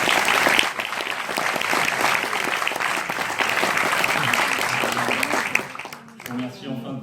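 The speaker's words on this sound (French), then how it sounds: "Je pense qu'on peut encore les applaudir." An audience at an evening round-table conference on Iran applauds in sustained, dense clapping for about six seconds. The clapping fades as a voice begins speaking at the end.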